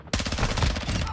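Rapid automatic gunfire in the online shooter Call of Duty DMZ, a dense burst of loud shots rattling continuously for over a second.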